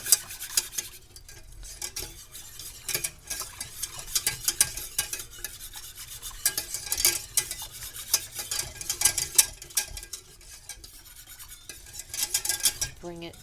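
Chicken gravy being whisked as roux is worked in, a steady scraping, swishing rhythm of whisk against the pan with light clinks, continuous and close, no voices.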